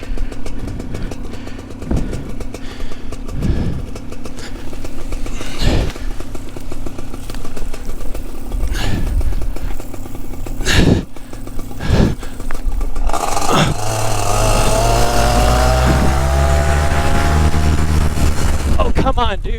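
Paramotor engine droning loudly in flight amid heavy wind buffeting, with sharp knocks and scrapes along the way, then the engine note climbing and surging in the final seconds.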